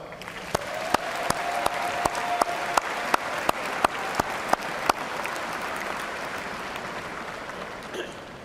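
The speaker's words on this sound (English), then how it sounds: "generous round of applause" A steady round of applause from a large commencement audience at Eastern Kentucky University's College of Justice & Safety ceremony, with sharp isolated claps popping out near the microphone during the first five seconds before the clapping fades slightly toward the end.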